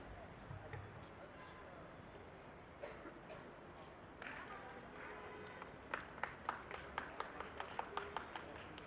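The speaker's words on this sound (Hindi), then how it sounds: "Give them a big round of applause." Applause for volleyball medal winners at a school awards ceremony, starting as scattered faint claps under crowd murmur and building into a string of sharper, louder claps toward the end.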